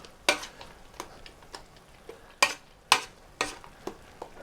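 A spoon stirs cream into potatoes for Italian shepherd's pie, giving sharp scraping knocks against the pot at irregular intervals, close and fairly loud, with quiet gaps between.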